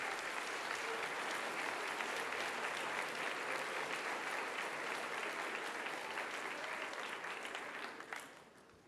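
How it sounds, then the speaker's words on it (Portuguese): Sustained applause from a church congregation at a late-night service, dense steady clapping filling the room for several seconds before tapering off at the end, with no talking over it. "Pode dar uma salva de palmas, Senhor Jesus."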